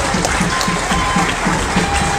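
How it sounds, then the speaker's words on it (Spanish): Steady applause from a crowd at a Spanish-language political speech, a dense, even wash of clapping that holds at the same loudness throughout with no voices standing out. "Un aplauso para el pueblo colombiano."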